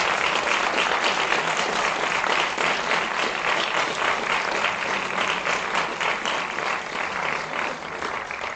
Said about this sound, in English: give a big round of applause to Dr.